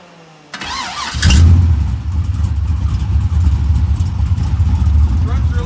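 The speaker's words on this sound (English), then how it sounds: "It runs really good, nice little engine." An LS V8 swapped into a Fox Body Mustang cranks and fires, then settles into a loud, steady, lumpy idle close by.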